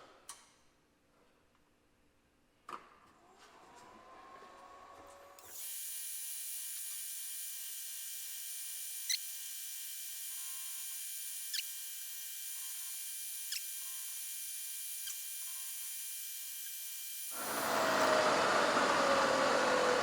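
A Bridgeport milling machine on 3-phase power starts up after a couple of faint clicks and runs as a steady, even whine with occasional soft ticks, then a louder burst of machining noise near the end.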